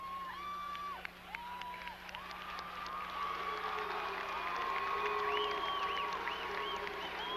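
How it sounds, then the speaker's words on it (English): Crowd cheering and whooping in a high school gym after a charging foul is called in a boys basketball game between Rosemount and Bloomington Jefferson, steady and moderately loud with scattered shouts. "Crowd likes that call."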